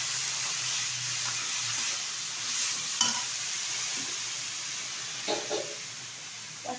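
Chopped chickpea greens and fried eggplant are stirred in a sizzling pan, a steady close frying hiss broken by one sharp spatula knock and a few softer scrapes, with nobody talking.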